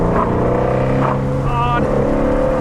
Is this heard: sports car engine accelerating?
yes